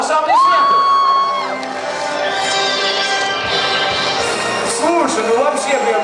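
Lively crowd at a student Mister pageant cheers, whoops and shouts for an award winner, loud and close, with a whistle-like tone early on and voices mixed through the steady roar.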